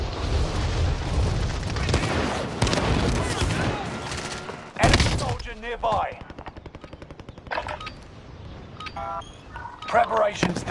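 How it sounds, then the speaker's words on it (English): Rapid machine-gun bursts and gunshots from a late-night war-zone video game session, loud and dense, with a sharp boom near the middle followed by quicker rattling fire and scattered shots, while a voice talks over the action. "They shoot me."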